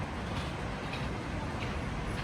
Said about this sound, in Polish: patrz, patrz, pociąg, Lija?